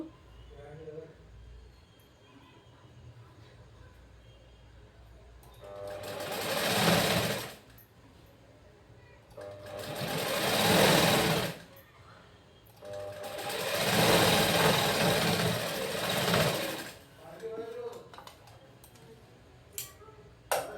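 A sewing machine stitching a blouse, running in three long whirring bursts of rapid stitching, each several seconds long, with quieter pauses between where someone talks.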